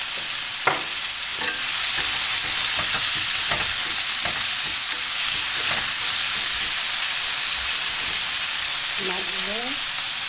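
Cucumber is stir-fried in a pan with chili flakes and a constant loud hiss and sizzle of hot oil. Occasional scraping strokes of the utensil against the pan come through, and there is no talk.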